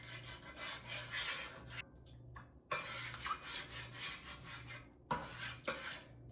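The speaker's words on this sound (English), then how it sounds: "Just taking a spatula, just loosening up all the food that's on here." A metal spatula scrapes baked-on, fried-on food residue off a cast-iron griddle, giving repeated close, loud rasping strokes with a few short pauses and no talking.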